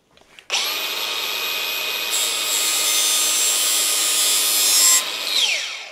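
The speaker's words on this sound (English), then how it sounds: "flip this blade over and have a go with the flap disc." Angle grinder fitted with a flap disc sharpening a lawnmower blade: a loud, close, high-pitched whine that spins up abruptly and grinds steadily for about four and a half seconds before winding down.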